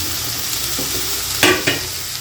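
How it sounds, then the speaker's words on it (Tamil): Broad beans (avarakkai) sautéing in a pan with softened tomato give a continuous frying hiss, broken by a couple of brief stirring scrapes. "சேர்த்து நல்லா வதக்கலாம் அவரைக்காவை"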